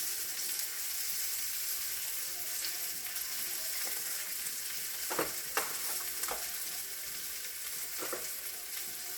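Seasoned potatoes with onion powder and garlic powder sizzle steadily in a frying pan while a utensil stirs them, giving a few scraping knocks over the constant frying hiss.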